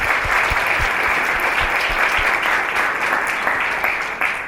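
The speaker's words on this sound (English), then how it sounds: "Big round of applause for them." An audience at a school presenters' event gives participants a big round of applause: loud, dense, continuous clapping from a crowd that tapers slightly at the end.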